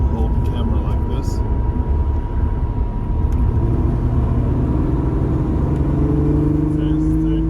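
An Alfa Romeo GTV6 on the move, its engine droning loud and close over a steady road rumble, the pitch climbing after a shift into third gear.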